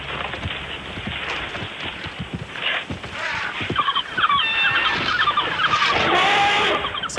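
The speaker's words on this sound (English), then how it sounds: "So that's the cheetah bird call." A bird call linked with cheetahs, heard in the wild: a series of clear warbling, whistled notes rising over a rough outdoor background of rustling and low rumble, moderately near.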